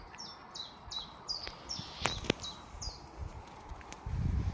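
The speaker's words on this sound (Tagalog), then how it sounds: "Huni ng ibon." Small birds sing in a park, a quick run of repeated descending chirps sounding fairly close over soft outdoor ambience, with a low rumble rising near the end.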